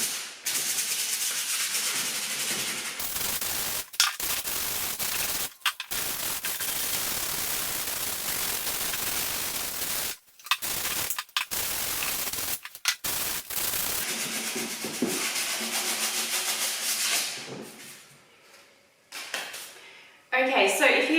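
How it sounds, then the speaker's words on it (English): Steady abrasive rasping of 120-grit sandpaper rubbed on a wooden pegboard, continuous strokes with a few brief pauses, fairly loud and close, trailing off near the end. "I'm using a 120p sanding paper, and I'm just going to roughly sand it"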